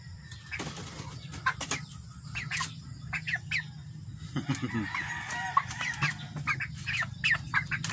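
A rooster clucks in a series of short, repeated calls at moderate distance, with other fowl and chicks chirping around it over a steady low background hum.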